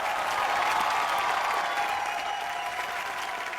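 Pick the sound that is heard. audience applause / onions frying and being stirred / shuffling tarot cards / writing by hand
audience applause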